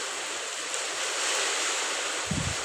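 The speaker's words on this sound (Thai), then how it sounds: "ฝนตกทั้งฝนทั้งลม" Heavy rain and wind pour down around a house in Thailand as a dense, steady hiss and roar. A short low thump comes near the end, and no voices are present.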